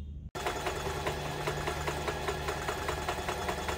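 Sewing machine stitching a fabric band for a detachable ruffle sleeve runs in a steady, rapid mechanical chatter after a brief pause, close and continuous.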